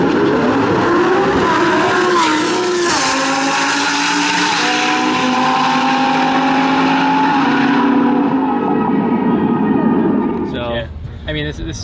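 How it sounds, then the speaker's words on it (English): A Lamborghini Huracan STO runs a quarter-mile drag race pass, its engine roaring loud and high with rising gear pulls that fade as the car moves off, ending with fainter noise. "this is I think probably one of the only STOs I've seen drag racing"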